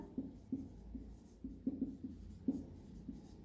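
Pen or pencil scratching and tapping on paper while drawing a geometric construction with a perpendicular bisector, in short, quiet strokes at an irregular rhythm with no talk.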